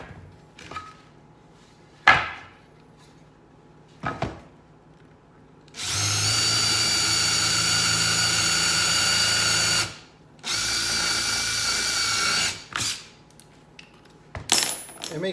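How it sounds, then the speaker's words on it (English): Power drill boring holes in wood for a reptile cage build: two sustained loud whining runs of several seconds each, separated by a short pause and framed by sharp knocks and clatter from handling the tool and board. "it's going to take forever to get through the wood"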